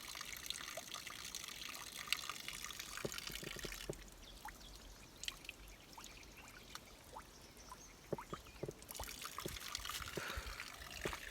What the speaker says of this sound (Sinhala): මේ කන්ද උඩින් එන වතුර මෙහෙම චූටි වටයක් දාලා මෙතන එනවා.